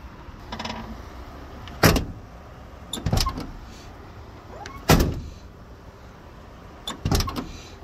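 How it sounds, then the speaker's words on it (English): A Ford F450 truck door slams shut four times at spaced intervals, each a sharp, close thud with quiet pauses between. "Now we're going to try to shut the door, see if it's aligned."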